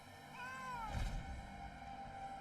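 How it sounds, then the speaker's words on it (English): A single drawn-out meow from a fire cat card in the Magic Arena video game, a bright rising-and-falling cry lasting about half a second over a steady low game background hum. "Yep, you're a good little fire cat."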